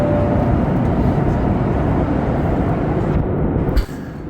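Steady broadband roar of an airliner cabin in cruise on a flight from Surat to Dubai, a dense constant drone that dips briefly near the end, with no talking.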